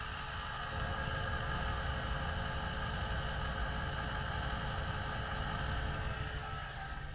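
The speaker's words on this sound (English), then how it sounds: "I can turn on the truck real quick so you guys can listen to the pump." A steady Cummins diesel engine in a 2019-2021 Ram 2500 idles close by, with a constant low rumble and a continuous whirring hum from an Air Dog 4G fuel pump running throughout, no voices.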